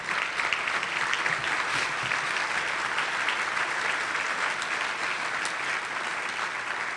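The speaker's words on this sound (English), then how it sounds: "give these guys a round of applause" A roomful of people at a foundation luncheon applauds steadily, a dense wash of clapping that holds at an even level for several seconds.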